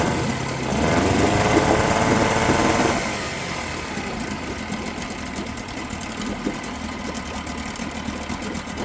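A 1975 Mercury 7.5 hp outboard motor that sat unused for 30 years runs steadily with a fast, buzzing rattle, louder for the first few seconds and then settling into a constant running drone, with no talking.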